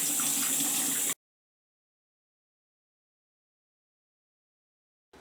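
Water runs steadily from a tap as soapy hands are rinsed at a dentist's sink, a continuous close splashing rush for about a second before cutting off abruptly into silence.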